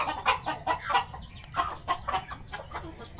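Pet chickens cluck softly and irregularly while they eat. The short, faint calls come from nearby and overlap one another.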